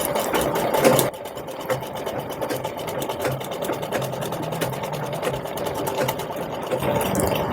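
A sewing machine stitching tucks on a blouse, running in a steady, rapid mechanical rattle with a louder burst at the start and then an even whir throughout.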